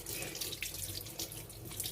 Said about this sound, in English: you wash your hands very well under flowing water